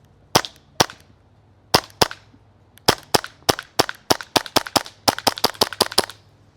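Sharp, snappy shots from a King Slayer AAP01 gas airsoft pistol, fired at a skull target: a few spaced reports, then a rapid run of about fifteen closely spaced cracks, loud and near, with no talking.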